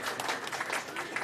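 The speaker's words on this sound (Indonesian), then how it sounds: "Boleh tepuk tangan untuk para ketua DPC." Brief, moderately loud applause from a group at an Indonesian political party event in Jakarta, a scattered patter of clapping hands lasting about a second.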